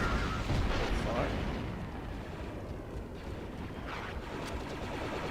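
Grenades detonate in a video game, with heavy booming blasts that roll into rumbling, noisy bursts, and a couple of sharper hits near the end over a dense, loud backdrop.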